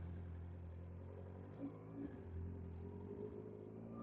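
A Honda CB-series big bike engine running, a low steady idle rumble with a faint rise in revs midway, fairly quiet and with no talk over it.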